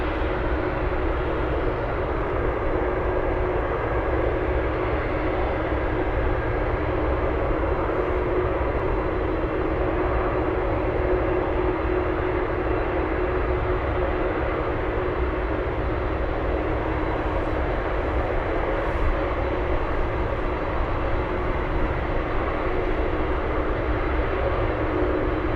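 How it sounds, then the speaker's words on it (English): A steady, loud jet roar rumbles without pause at Anchorage airport, where a Boeing 747 Dreamlifter and an executive jet are moving, the noise continuous and broadband throughout. "This one should have, that 747 should have enough time to cross the runway."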